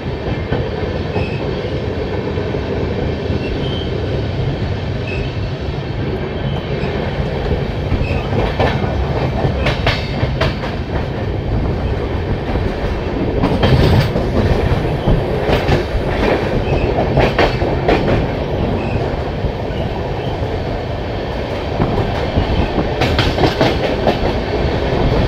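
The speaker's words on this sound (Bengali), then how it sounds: "হ্যাঁ, এটা কলিঙ্গ উৎকল এক্সপ্রেসই।" Kalinga Utkal Express running at a steady pace near Cuttack shortly after departure, loud continuous rumble with rhythmic clickety-clack of wheels on rail joints throughout.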